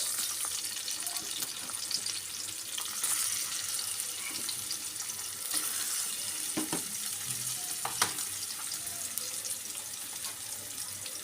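Garlic and onion fry in a pan until they brown, giving a continuous close sizzling hiss broken by occasional light scrapes and clinks, with no voices.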